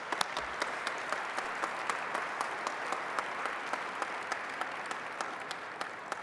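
An audience at an awards gala applauds steadily, a thin scattered patter of clapping that holds at an even level throughout without voices.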